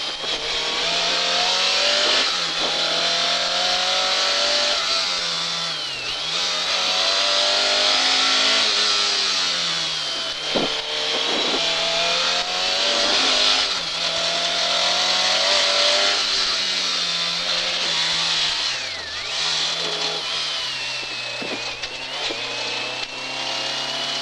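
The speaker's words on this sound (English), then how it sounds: "about halfway through the stage, the engine notes seemed to change" A rally car's engine howls through a Tour of Mull 2004 stage, loud and continuous for the whole stretch. Its note keeps rising and falling with gear changes and throttle lifts, and there is no talk over it.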